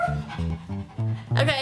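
A person imitates a dog with a run of short, barking woofs and yips, loud and close, ending on a higher whine-like bark.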